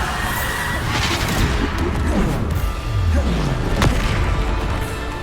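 Bombarda explosion spell cast in Hogwarts Legacy, a loud crashing blast amid dense, busy game effects with sweeping tones and crackling debris, continuous and full for several seconds.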